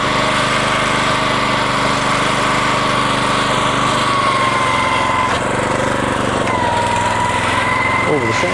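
Toro Greensmaster 1600 reel mower cutting a lawn: a loud, close, continuous engine drone with a whirring reel and slight shifts in pitch as it moves across the grass.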